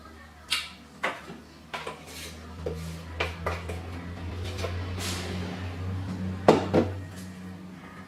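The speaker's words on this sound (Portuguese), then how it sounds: "Nos secos do bolo e vou misturando devagar com a colher mesmo" Spoon scraping and knocking against a bowl while carrot cake batter is stirred slowly, a series of sharp clinks and taps spaced irregularly over a low background hum, moderately close.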